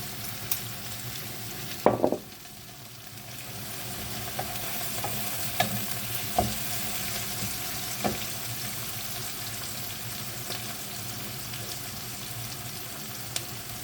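Steady sizzling of onion frying in oil in a pot, with occasional stirring clinks and scrapes against the pot, close and continuous.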